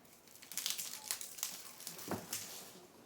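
A knife blade crushes garlic cloves on a cutting board, giving a series of close, crackling crunches and crinkling squishes, one heavier press near the end.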